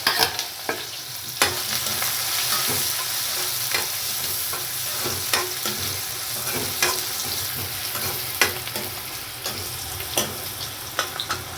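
Finely chopped onion hits a hot pan with cumin and asafoetida for a dry black chana masala, giving a continuous loud sizzle punctuated by repeated spatula scrapes and clacks.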